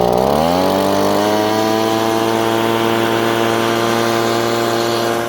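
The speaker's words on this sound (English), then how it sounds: "In order to speed up the drying process, I'm going to use a leaf blower." Loud, steady engine whine of a leaf blower spinning up and then holding a constant droning pitch as it blows across a wet car trunk carpet, close and continuous.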